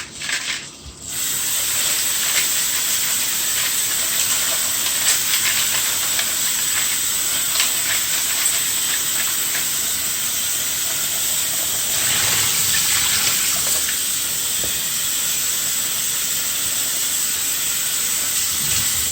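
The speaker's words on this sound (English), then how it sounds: "I will be adding this to the pot of boiling water" Spaghetti going into a pot of boiling water, a steady loud hiss and bubbling roar of steam that continues unbroken for nearly twenty seconds with no voices.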